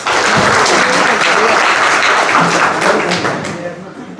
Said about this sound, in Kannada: ಒಮ್ಮೆ ಎಲ್ಲರಿಗೂ ಪಾರ್ಟಿಸಿಪೆಂಟ್ಸ್ಗೆ ಜೋರಾದ ಚಪ್ಪಾಳೆ ಪ್ಲೀಸ್